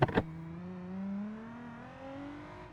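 After a brief thump, a video game car engine hums and slowly rises in pitch as it revs up, steady and moderately loud with no talking.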